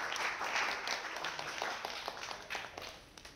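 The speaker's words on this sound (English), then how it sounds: "Please, hand clap for everyone that shared a story." Audience hand clapping at a leadership workshop during the Open UP Summit 2019, a dense burst of applause that starts full and gradually thins and fades over a few seconds.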